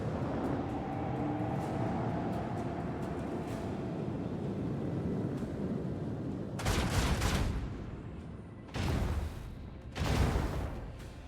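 Torpedoes exploding in the space combat of Warhammer 40,000: Rogue Trader, with a steady rumbling bed that gives way to three heavy, roaring blasts in the second half.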